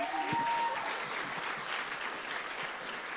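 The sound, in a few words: audience applause at the eCYBERMISSION showcase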